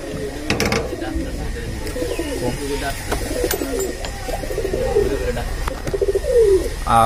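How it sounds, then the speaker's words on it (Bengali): Pigeons at a pigeon farm coo in soft, repeated throaty phrases at close range, several birds overlapping over low background noise. "কবুতরের ডাকগুলো কিন্তু অনেক সুন্দর, মিষ্টি সুমিষ্টি ডাক"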